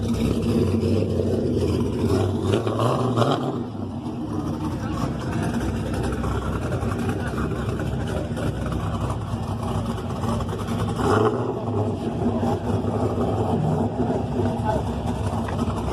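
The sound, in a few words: car engine doing a burnout at Pageland dragstrip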